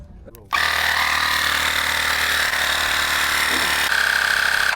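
A Teslong 20V Pro cordless tire inflator starts up and runs, a loud steady buzzing compressor drone that carries on without pause after a brief quiet moment.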